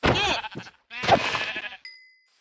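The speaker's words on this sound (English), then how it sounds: "Oh my god, I hit the mother load of sheep!" Sheep bleat in Minecraft, two loud, close, wavering calls a beat apart, followed by a brief high electronic tone.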